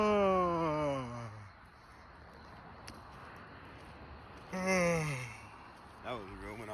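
A person yawns deliberately as a vocal warm-up, two drawn-out falling yawns with a quieter breathy stretch between them and a short third voiced sound near the end.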